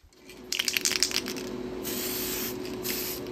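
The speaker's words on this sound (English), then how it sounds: "Let's just lightly spray these couplers." A steady hiss of aerosol spray paint on model railroad couplers runs for a couple of seconds after some light clicks and rattles, close and fairly loud.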